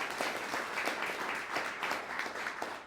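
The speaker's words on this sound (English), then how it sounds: "please applause" An audience at an opera songbook concert gives warm applause. Many hands clap together in a continuous, moderately distant wash, fairly quiet overall.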